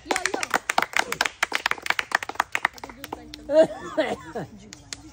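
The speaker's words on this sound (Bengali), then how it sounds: "হাততালি সবাই, হাততালি।" A small audience at a food spin game claps in quick, uneven bursts for about three seconds, then the clapping fades into chatter, chuckles and a few loud voices.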